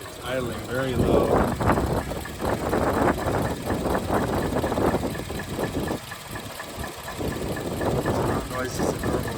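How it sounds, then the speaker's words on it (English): A 2002-2006 Toyota Camry engine idling very low after battery removal, a steady low rumble with ticking, heard close under continuous talking and gusty wind. "See, it's idling very low"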